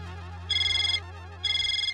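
A mobile phone ringtone sounds in a police station, two steady electronic tone bursts of about half a second each separated by a short gap, loud and clear over a low background hum.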